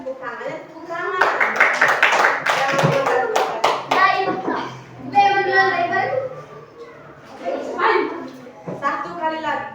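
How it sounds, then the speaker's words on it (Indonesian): Children in a classroom burst into several rounds of lively hand clapping, mixed with kids chattering and a teacher's voice speaking over and between the applause. "Tepuk tangan untuk kelompok"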